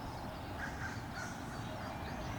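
A crow caws a few times at a distance outdoors after a long walk, faint calls over steady wind or background noise.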